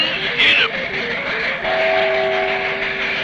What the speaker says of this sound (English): You got the train off the track.